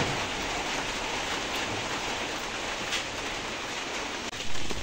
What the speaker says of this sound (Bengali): আমাদের এলাকায় আজকে বৃষ্টি শুরু হলো